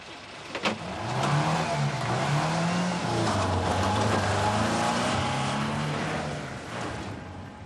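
A car engine revs loudly and close by, pitch swooping up and down over several seconds before settling, with no talking.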